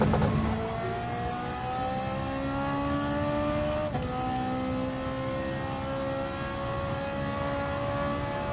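A race car engine revs and climbs through the gears in Gran Turismo Sport, a loud continuous whine that rises steadily, briefly drops at a shift and then climbs again, with no talk over it.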